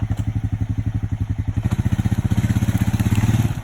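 A four-wheel-drive vehicle's engine revs hard while stuck off-road in the bush, giving a loud, rapid, rhythmic pulsing throb that speeds up slightly and holds steady for several seconds.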